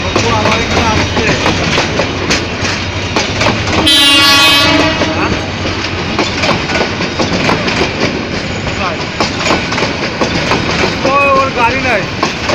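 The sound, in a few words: train passing through a railway station with horn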